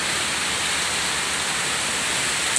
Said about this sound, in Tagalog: Ayan, oh, lakas ng ulan.